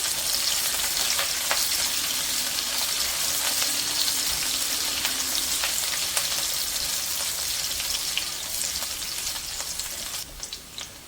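Chopped fresh ginger frying in a pan of oil for fried rice, a loud continuous crackling sizzle with scattered sharp pops throughout, close and steady, no talk.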